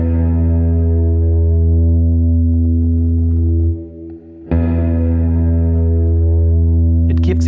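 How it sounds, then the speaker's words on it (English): A low guitar note on the sixth string, played with a rest stroke, rings out thick and sustained, briefly dips, then is struck again and keeps droning with heavy effects and a slight buzz. "Pluck and rest on the string underneath. That's called a rest stroke"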